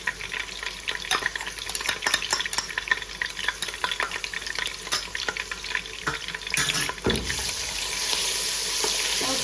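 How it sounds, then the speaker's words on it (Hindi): Garlic ginger paste hitting hot oil in a pan, a busy crackling sizzle with frequent stirring clatter and a steady hiss that grows louder toward the end, close and without any talk. "ऑयल मैंने डाल दिया है। अब मैं इसके अंदर कर रही हूँ ऐड लहसुन अदरक का पेस्ट"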